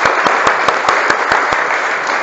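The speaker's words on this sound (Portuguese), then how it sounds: "Uma salva de palmas." Congregation claps together in a church worship service, a loud, steady rhythmic applause with evenly spaced sharp beats, no voices over it.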